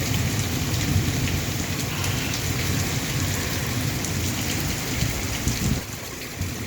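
Steady rain pouring down in a village, a dense, continuous hiss of drops on surfaces that stays even and fairly loud throughout, with no talking.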